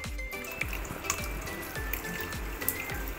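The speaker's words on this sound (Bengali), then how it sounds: "এই জন্য আমি একটু ঠান্ডা জল দিয়ে একটু ছানাটাকে ধুয়ে নেব" Cold tap water runs steadily over fresh chhena cheese curds being rinsed for rasmalai, a continuous close splashing stream with a faint rhythmic drip and gurgle beneath, no talking.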